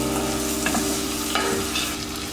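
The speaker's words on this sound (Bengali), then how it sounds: "এবার ডালটাকে একটু সুন্দর করে কষিয়ে নিয়ে সিদ্ধ করব" Soaked dal being stirred and sautéed in a hot pan, a loud, close, continuous sizzle with rhythmic scraping strokes of the spoon against the pan, no voices.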